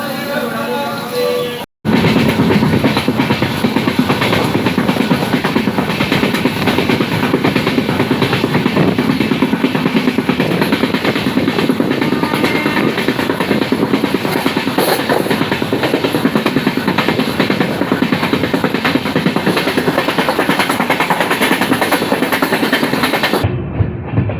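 A constant loud rumble of the Diva–Sawantwadi Express at Sangameshwar railway station, with rattling and mechanical noise throughout, briefly broken by a short gap near the start.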